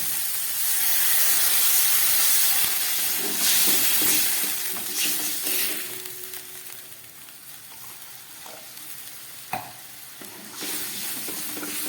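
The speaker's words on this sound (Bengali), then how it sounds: "এবার আমি এর মধ্যে দিয়ে দিচ্ছি জল" Water poured into sizzling spiced masala in a pan for a vegetarian potol kofta curry: a loud, steady hiss of frying and steam with stirring scrapes, then a quieter bubbling sizzle, no talking.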